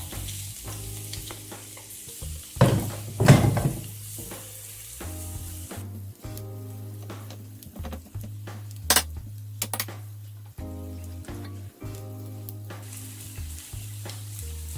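Sausage frying in a pan with a steady low sizzle, stirred now and then with a few utensil clinks and scrapes against the pan, close and alone without talk.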